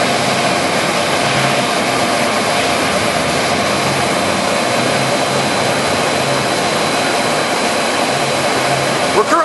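A Monarch 20x126 heavy-duty engine lathe with an 18-inch four-jaw Cushman chuck running at 500 RPM, giving a loud, steady, dense mechanical whir and hum that holds constant throughout.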